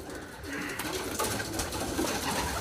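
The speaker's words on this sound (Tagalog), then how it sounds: "makita niyo yung dami ng kalapati natin" Pigeons cooing inside a racing pigeon loft, several birds with overlapping soft throaty coos and rustling, close and fairly loud, continuous throughout.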